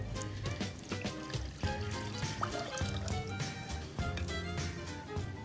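Water pours into a pot for a pine honey syrup, a soft continuous trickle and splash at moderate distance, fairly quiet throughout.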